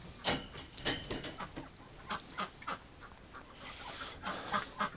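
Ducks in a winter pen give a few scattered quacks and honks, the loudest near the start and more following at intervals, close by with no talk over them.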